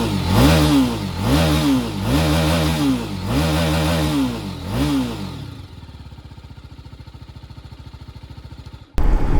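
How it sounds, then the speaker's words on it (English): A 2022 TVS Apache RR310 BS6 motorcycle in neutral revs hard five times in a steady rhythm, each loud rise and fall close by. The engine then drops to a fast, even idle, and a sharp clunk ends the clip. "So let's hear the exhaust note"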